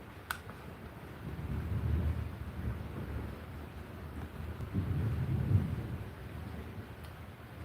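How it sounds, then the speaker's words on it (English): Thunderstorm thunder, a deep rolling rumble that swells and fades twice over several seconds, distant and steady with wind-like noise and no talking. "Yeah, I like a good thunderstorm too"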